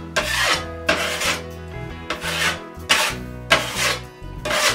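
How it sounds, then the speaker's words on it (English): A taping knife scrapes excess compound off a drywall patch in repeated long, loud, close strokes, each a harsh rasping sweep of about a second with short gaps between them. "in between the first and second, scrape off the excess"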